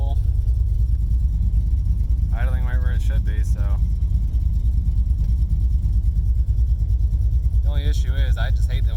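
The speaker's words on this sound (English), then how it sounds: "I just hate the way the exhaust sounds right now" Car fitted with Flowmaster 40 series mufflers, just after a head gasket replacement, runs with a steady low exhaust rumble throughout, while someone talks over it in short bursts.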